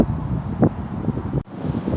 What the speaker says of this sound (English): record on this bridge a little bit with the wind blowing in my face and blowing into the mic